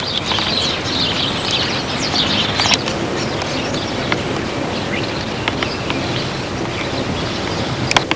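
Small birds chirp outdoors in cold, windy weather, their short high calls scattered over a steady roar of wind buffeting the microphone, with a few sharper clicks near the end.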